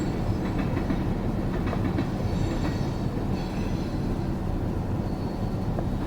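CSX freight tank cars roll past nearby in a continuous, heavy rumble, with rhythmic clickety-clack from the wheels on the rails. The sound stays steady and loud throughout, with no voices.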